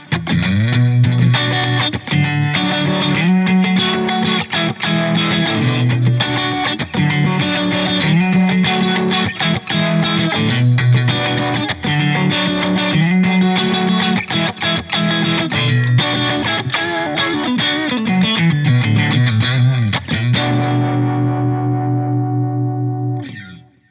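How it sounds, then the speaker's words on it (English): An electric guitar plays chugging riffs through heavy, saturated tube amp distortion, loud and continuous, ending with a held chord that fades out. "the amount of overdrive or distortion, like how soon they start to break up"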